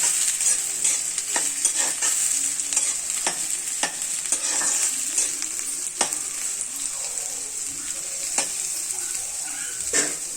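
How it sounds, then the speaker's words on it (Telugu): Green chillies and onion fry in a pan for chicken curry, giving a continuous close sizzle with irregular clacks of a spoon stirring, and no voices. "నాలుగు పచ్చిమిరపకాయలు వేయించుకోవాలి"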